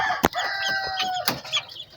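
High, thin peeping from chicks in a small brooder fills the air, with overlapping chirps and a few sharp knocks, close by and continuous.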